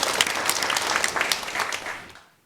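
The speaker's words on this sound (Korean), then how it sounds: "여러분 한번 격려 박수 보내주세요." A church congregation claps in thanks for the choir's hymn during a New Year's Day Sunday service. The burst of applause is brief and lively, then fades out quickly within a couple of seconds.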